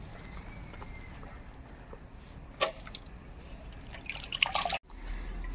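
Wild Durga chhatu mushrooms gathered from the forest are rinsed in clean water, giving quiet drips and light splashes, then a sharper burst of sloshing water before a sudden cutoff.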